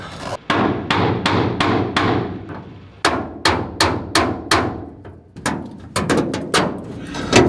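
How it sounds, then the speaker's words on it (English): Sharp metallic hammer strikes on a Jeep ring out in quick bursts, several blows at a time with short pauses between, loud and close. "I need that hammer again."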